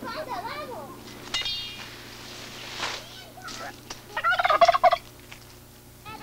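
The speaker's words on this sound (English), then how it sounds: "some pretty noisy turkeys" Turkeys gobble in loud bursts, with a rapid rattling gobble near the end, over a quiet outdoor background with faint voices, at a house in Central America.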